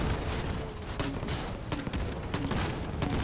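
Rapid gunfire from an Emily revolver in a video game, a dense burst of loud, closely spaced shots across a few seconds, fairly near.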